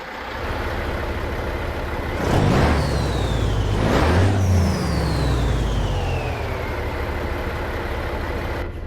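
A semi-truck engine in American Truck Simulator idles, then revs up twice with rising whines before settling back into a steady rumbling idle.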